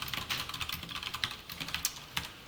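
Rapid, irregular clicking of keys on a computer keyboard during a Java programming lesson, close and clear with no speech over it.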